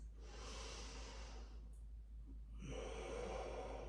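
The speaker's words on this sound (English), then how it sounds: "Right back to your deep breathing if you've lost it." Slow, deep breathing during a yoga session, soft and close with long airy inhales and exhales separated by a brief pause, quiet and steady with no talking.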